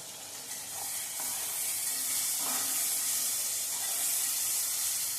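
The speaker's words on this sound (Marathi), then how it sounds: "आता का कांदा आपल्याला छान परतून घ्यायचा आहे" Onion sautéing in a pan, a steady broadband sizzle that holds evenly throughout with faint scrapes, close and fairly loud with no voices.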